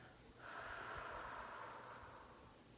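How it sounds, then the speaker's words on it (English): A long, steady breath pushed out through the mouth during a postpartum deep-core exercise, starting suddenly and lasting about two seconds as a soft, breathy rush close to the mic. "Exhale."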